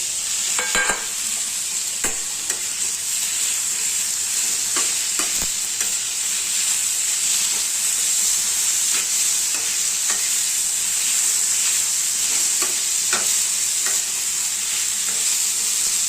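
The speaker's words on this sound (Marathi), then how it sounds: "आता त्याच्यामध्ये टोमॅटो टाकायचे भाजायला." Tomatoes frying in a pan for egg curry, a steady bright sizzle running the whole time with occasional stirring scrapes and clicks, close and continuous, no one talking.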